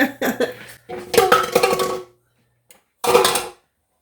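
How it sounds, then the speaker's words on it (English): Canned corn and its liquid tipped from a can into a soup pot: a run of close metallic clanks and splashy clatter, a brief pause, then one more short burst of metal-on-pot knocking. "I'm just going to add a can of corn, and I'm going to add the liquid"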